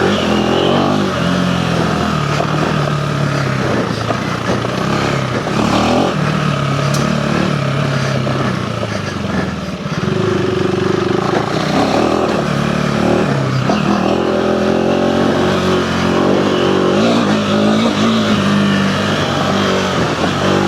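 A Honda CRF300L or KTM 390 Enduro R dual-sport motorcycle riding an off-road trail, its engine loud and close and revving up and down continuously, with wind rush and a brief dip in the throttle partway through.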